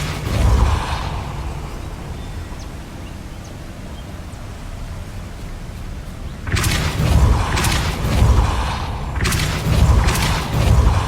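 Spellcasting in the video game Hogwarts Legacy, the Depulso spell: heavy thumping impacts and rumbling bursts after a quieter stretch, several loud repeated hits in the second half.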